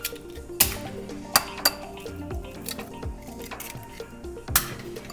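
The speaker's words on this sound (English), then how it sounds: "Crack both eggs open." Two eggs cracked open into a bowl, with sharp shell taps and clinks against the rim at irregular moments amid light kitchen clatter, close and fairly quiet.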